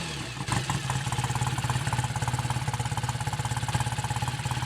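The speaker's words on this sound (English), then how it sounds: "There we are, we're running on 2 cylinders." A BSA A65T motorcycle engine with points ignition runs on two cylinders after months unused, a steady, loud, close-up rhythmic idle with a regular pulsing beat throughout.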